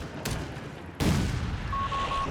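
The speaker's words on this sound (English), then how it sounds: "Sturm keeps blasting with the 75mm cannon." A Sturmtiger's 75mm cannon fires in Company of Heroes 3, a sharp broadband blast followed by a heavier boom with rumbling tail amid ongoing battle noise, plus a faint earlier shot.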